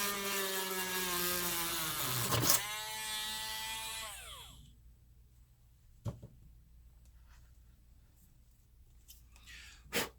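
A loud, high-pitched Dremel whine runs steadily while drilling a hole in a laptop casing, then spins down and stops, leaving near silence broken by a couple of sharp clicks.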